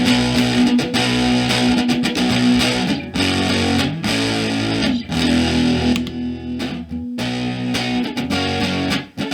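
An electric guitar overdriven through an LM386 amplifier board, loud and buzzy with heavy distortion, playing sustained chords in several bursts separated by short gaps, with no voices.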